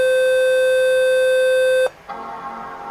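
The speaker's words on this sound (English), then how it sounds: "And it beeped as expected." An original MacBook Pro gives a single loud, steady electronic beep lasting nearly two seconds during a firmware reset, then cuts off into quieter background hum.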